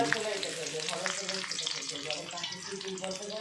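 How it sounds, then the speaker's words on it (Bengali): Onions fry in a pan for a chicken dish while being stirred, a steady sizzle and crackle with stirring scrapes, and a voice talks over it throughout. "এবার পেঁয়াজটাকে ভালো করে নাড়াচাড়া করে নিই"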